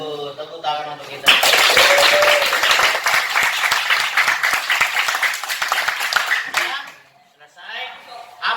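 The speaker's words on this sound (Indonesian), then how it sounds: "Tepuk tangan untuk kita." Applause from a classroom or lesson audience, loud dense clapping for about five seconds after a brief spoken lead-in, then fading back to quieter talk.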